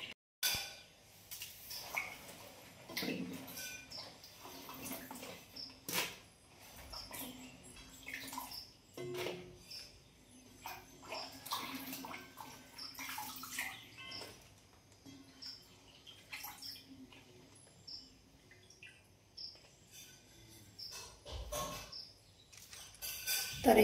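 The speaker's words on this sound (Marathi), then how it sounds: "तर भेंडी धुवून पुसून घेते आता मी चांगली स्वच्छ" Okra is washed by hand in water, heard as faint intermittent splashes, swishes and drips in a quiet outdoor setting, with occasional louder handling knocks and no talking.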